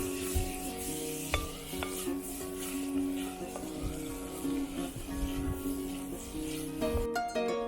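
A sauté with garlic is stirred in a pot over an open fire outdoors in snowy winter, giving repeated scraping and knocking strokes over a low steady sizzle, with a metallic clink and rattle near the end.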